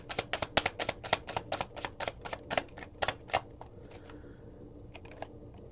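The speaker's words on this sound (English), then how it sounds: "Shuffle the kipper again." A rapid run of crisp, fluttering card riffles, about twenty quick snaps in a row, tapering off into a few softer taps.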